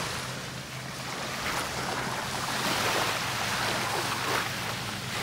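Sea waves rolling onto Teluk Bahang beach on Penang in Malaysia, a steady broad roar of surf with swelling, crashing washes throughout, loud and close, no voices.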